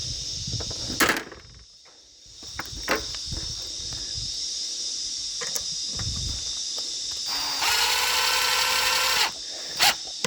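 A power drill drives a screw into a urethane boat skid, whirring in a steady high burst for about two seconds near the end, with shorter tool noises and handling knocks earlier over a constant background hum.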